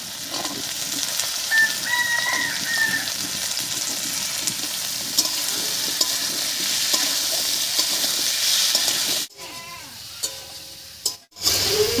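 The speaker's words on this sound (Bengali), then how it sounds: "মটরশুঁটি দিয়ে নাড়িয়ে নিয়েছি।" Green peas being stirred into a sizzling paneer masala in a pan, a loud continuous frying hiss with scraping stirs, briefly dropping out near the end, with no voices.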